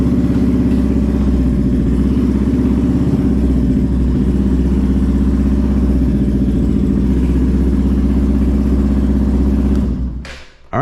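A Benelli 125/135 motorcycle engine idles in neutral with a steady, close, loud putter and a faint rhythmic clatter, running evenly for about ten seconds before cutting off abruptly.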